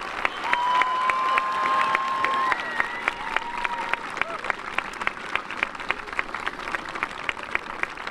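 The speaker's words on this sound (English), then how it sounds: "Please give a huge round of applause to all of our fifth graders." An audience at a fifth grade recognition night applauds the students, broad clapping that thins into scattered individual claps, with a whistle and some crowd voices early on.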